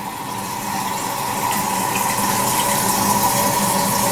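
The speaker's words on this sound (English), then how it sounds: "And the thing flushes. And then as it flushes, it flips back up. And that is a long flush." A long hotel toilet flush at a Holiday Inn near the St Louis airport, a loud rushing gush of water with a steady tonal whine that swells slightly and keeps going without pause.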